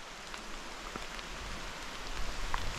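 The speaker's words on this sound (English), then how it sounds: "In the rain!" Rain falls steadily during an outdoor mountain bike event, a constant broadband hiss of drops that holds even across the clip and swells slightly near the end, with no voices.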